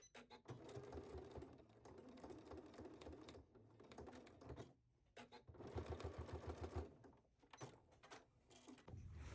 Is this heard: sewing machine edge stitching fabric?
yes